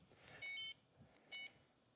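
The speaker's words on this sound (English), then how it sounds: "So you can hear the system beeping" A kayak spot-lock trolling motor system gives two short electronic beep chirps on power-up, about a second apart, faint over quiet outdoor background.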